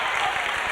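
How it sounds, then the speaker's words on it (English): A young cheerleader claps for herself courtside at a boys' high school basketball game, a brief burst of applause-like clatter set in dense, steady gym crowd noise. "Giving herself an applause."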